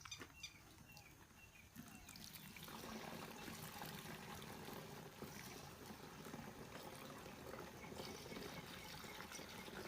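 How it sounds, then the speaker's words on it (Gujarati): Steady rushing of water pouring into a pesticide sprayer tank, continuous and fairly loud, with a brief quieter start before the flow settles in. "હવે આપણે નાખવાનું છે પાણી"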